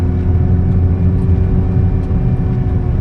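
A Nissan GT-R on a gymkhana course marked by cones, its engine a loud, steady low rumble and whir held close throughout, without clear revving peaks.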